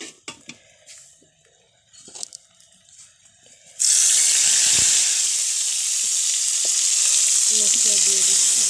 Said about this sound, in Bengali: প্রথমে একটু ভাজি করে নিচ্ছি বন্ধুরা